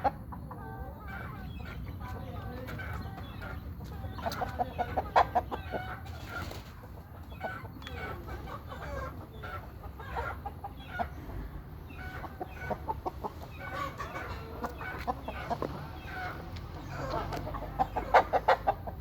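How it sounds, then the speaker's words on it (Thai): Fighting-breed gamecocks cluck steadily through a long stretch of farmyard noise, with repeated close calls over a constant low background hum. "เ จ้าหยกนี่เป็นไก่ที่ตีเจ็บมากเลยอะ"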